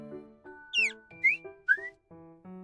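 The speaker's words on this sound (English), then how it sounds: "He adjusts the water level in the bird whistle several times. Sounds of various pitches are produced." In the Love and Deepspace game, a water-filled bird whistle with a woven bird decoration warbles three times in bright, rising chirps at different pitches. The chirps sound over a soft, steady musical backing.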